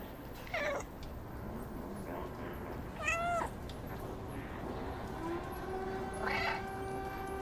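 A cat meows three separate times in the video game Stray, rising and falling cries spaced a few seconds apart over a steady hum of ambient tones.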